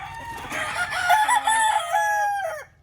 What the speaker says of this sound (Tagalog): Yan yung mga manok dito.